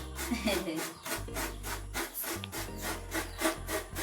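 A coconut is scraped on a traditional sit-on scraper in a Filipino mountain kitchen, making loud, rhythmic rasping strokes about twice per second, close up, with a faint voice in the background.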